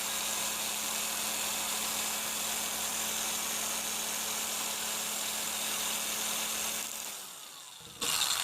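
An electric drill whirs steadily at high speed while twisting helix wire, running continuously before winding down briefly near the end and starting up again.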